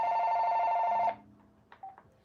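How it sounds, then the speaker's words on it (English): A telephone rings loudly and steadily for about a second, then cuts off, leaving faint room noise and a few brief tonal blips. "the phone is off the hook, y'all."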